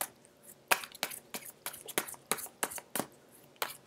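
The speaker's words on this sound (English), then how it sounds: "I'm going to get the last two shuffled out." Tarot cards are shuffled by hand in a series of quick, crisp riffles and slaps, about a dozen close snaps in an uneven rhythm, with quiet room tone between them.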